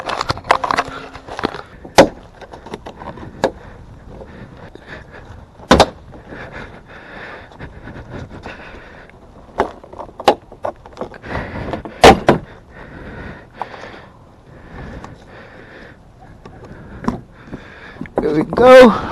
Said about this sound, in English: lock the door and start prying it.